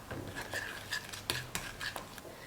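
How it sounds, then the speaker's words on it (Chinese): A utensil stirs flour being poured little by little into a dough mixture of egg, butter, milk powder and baking powder, giving soft scraping sounds and a few light clinks against the bowl, close and fairly quiet. "边倒边搅拌"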